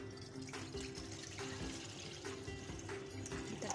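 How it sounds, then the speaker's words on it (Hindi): About three cups of water are poured into a wok on a lit stove, giving a steady close splashing stream over a faint background hum. "अब मैं इसके अंदर पानी डालूंगी।"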